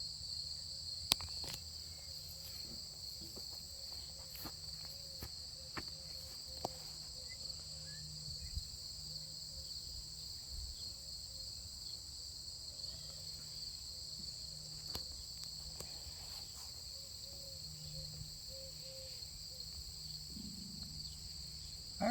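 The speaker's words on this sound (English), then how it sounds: "The crickets are going crazy" Steady, dense chirping of crickets fills the scene, continuous and unbroken, with a few faint clicks and knocks scattered throughout.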